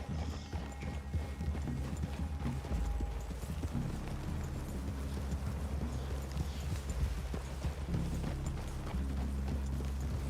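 Horse hooves clip-clop steadily in Red Dead Redemption 2, a continuous rhythmic patter of several horses close by over a low rumbling ambience, with no talking.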